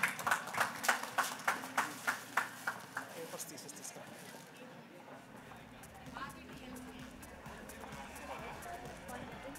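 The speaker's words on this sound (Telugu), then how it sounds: "ఒకసారి గట్టిగా చప్పట్లు కొట్టవలసిందిగా కోరుతున్నాము." At a stage event for a Telugu association, a short burst of about a dozen rhythmic claps rings out, then fades into a murmuring room with voices underneath.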